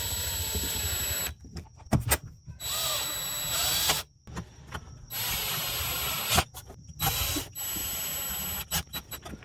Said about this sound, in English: we're going to get those four little machine screws right back into the hinge